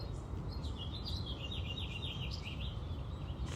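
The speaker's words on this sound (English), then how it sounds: "you can hear we got some sort of birds" Birds chirp in quick repeated tweets over a constant low rumble of background noise, moderately distant and steady throughout.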